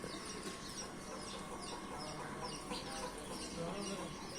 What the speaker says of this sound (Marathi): बघा हे ते लहान लहान पिल्ले निघाले